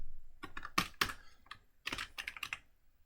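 Bursts of close keyboard typing, quick clustered keystrokes separated by short pauses, as C++ code for a function with a value parameter is entered on a computer, with no one speaking.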